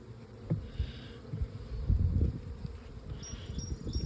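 Honeybees buzz around an open Layens hive during an inspection on a farm, a low, uneven drone with soft bumps and handling noises close by.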